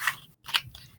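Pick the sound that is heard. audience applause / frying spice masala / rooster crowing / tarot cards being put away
tarot cards being put away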